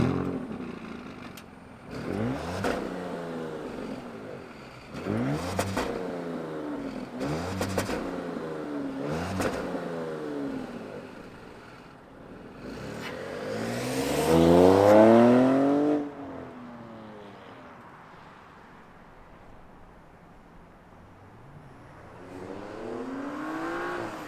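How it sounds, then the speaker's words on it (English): A 2023 Audi S6 twin-turbo Quattro sedan revs through a series of repeated rising and falling sweeps, then one longer, louder rev that fades to a smooth running hum, heard close without talk. "So let's fire it up and hear what it sounds like."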